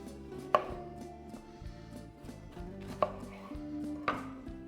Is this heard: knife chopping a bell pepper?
yes